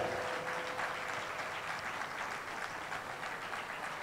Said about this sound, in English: Don't stop clapping as Dr. Akinyemi returns to his seat.